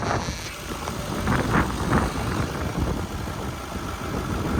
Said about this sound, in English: Just wanted to show you the engine, which is running, which is silky smooth